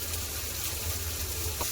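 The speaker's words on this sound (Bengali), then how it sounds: "এবার ভালো করে লাল লাল করে ভেজে দেবো পেঁয়াজটা" Soft, steady sizzling of onions frying in oil with cumin, bay leaves and salt, fairly quiet and continuous, with a faint low hum underneath.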